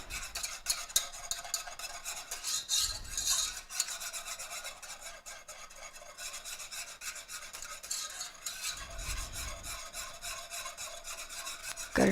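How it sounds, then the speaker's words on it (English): Butter browning over medium-high heat and swirled in a pan for chewy coconut cookie bars gives a steady close sizzle with scraping, rasping stirs, louder bursts around the third and ninth seconds, with no talking. "We're going to keep it swirling so we don't burn the butter."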